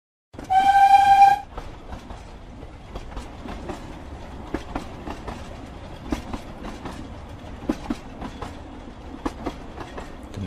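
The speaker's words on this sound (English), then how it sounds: "Menon entered the first-class compartment of a train" A train horn sounds one loud, steady blast at the start, then the train runs on with a regular clickety-clack of wheels over rail joints, close and even for the rest.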